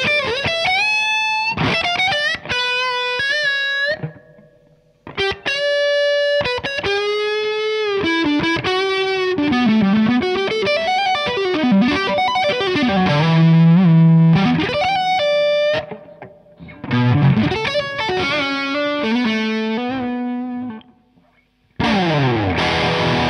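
Music Man Luke III electric guitar with its push-pull boost supplying high-gain distortion through an amp set to crunch, played as loud overdriven riffs and sustained bends with brief pauses between phrases.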